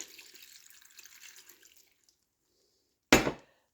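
A glass of water is poured into a cooking pot for aloo palak made with spinach and potatoes. One short, loud splash comes near the end, after a faint trickle that fades into silence.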